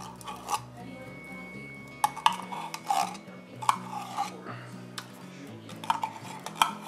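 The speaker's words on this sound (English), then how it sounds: "I'm gonna have to dig in there with a spoon and get that out." A spoon scraping and clinking inside a pot of squirrel Brunswick stew: irregular metallic taps and scrapes, close and fairly soft, over a faint background hum.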